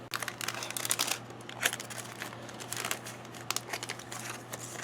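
A Russian mountain ration food pouch is torn open by hand, giving close, crinkly crackling and tearing bursts of plastic packaging in irregular spurts against a quiet background.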